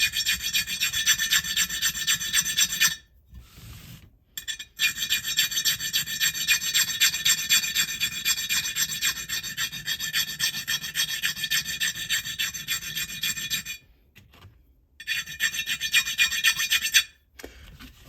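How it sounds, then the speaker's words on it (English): A diamond file rasps lightly along the edge of an antique bowl in long steady strokes, close and fairly loud, pausing briefly twice before resuming. "Just lightly with the diamond file."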